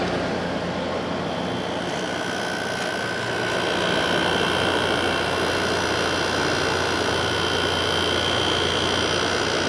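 A 2017 Arctic King 10000 BTU air conditioner compressor hums steadily at close range, a broad, even drone with a faint tonal whine that swells slightly partway through and then holds, with no voices.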